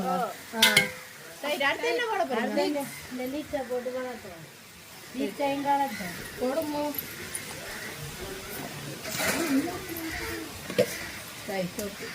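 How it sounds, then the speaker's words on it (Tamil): Fish and onion sautéing in a pan during home cooking with relatives give a soft, steady sizzle and stirring under almost constant conversation. "மீன ஏற்கனவே உள்ளி போட்டு வதக்கிட்டோம்"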